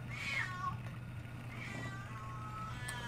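A heavy, overweight house cat meows twice, first a clear call and then a softer one, heard close over a steady low hum.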